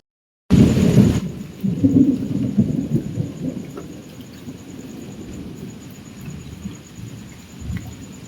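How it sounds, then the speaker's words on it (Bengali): A night thunderstorm: a loud, close thunderclap bursts in and rumbles on for several seconds, then fades to steady rainfall with a faint later rumble. "ফোটা ফোটা করে বৃষ্টি হচ্ছে আর প্রচুর আকাশ ডাকছে আর বিদ্যুৎ চমকাচ্ছে"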